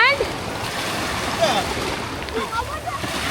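Sea waves at high tide wash onto a beach in a steady, rolling surge, with voices talking over the water.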